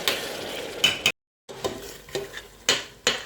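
Onion sizzles with tomato in a frying pan while cooking Cameroonian cornchaff, with clinks and scrapes of stirring, a brief silent gap, then sharper spoon knocks against the pan.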